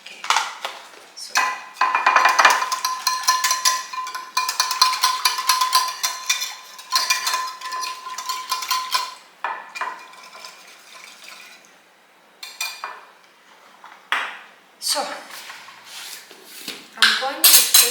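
Cold milk being whisked by hand in a kitchen bowl, rapid rhythmic clinking and swishing in fast bursts with pauses between, close and fairly loud.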